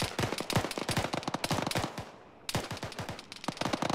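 Rapid automatic gunfire in the military shooter ArmA, with dense close bursts that pause for a brief moment and then start again just as sharp and fast.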